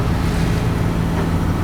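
Stormy sea with high swell off the Kuril Islands coast, heard from a boat as a loud, continuous roar of waves and wind buffeting the microphone, steady throughout with no talking.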